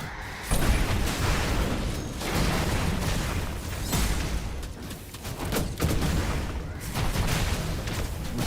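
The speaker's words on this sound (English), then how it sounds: "I suppose that we're now just throwing bombs at them." Bombs thrown by Vesper burst in the fantasy action game Shape of Dreams, a dense run of heavy booms and crackling blasts rolling on continuously with no pause.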